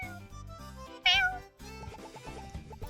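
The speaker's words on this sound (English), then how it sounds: "And this is my cat, Toasty." A single short, high meow from a cat in the video game Paper Perjury rises over looping game background music, with no talk.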